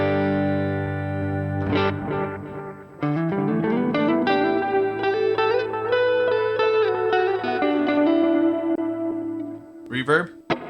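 Electric guitar played through a Matribox II Pro multi-effects unit on a Fender amp model, ringing chords and sustained notes with effects, then a brief bright burst near the end, close and loud.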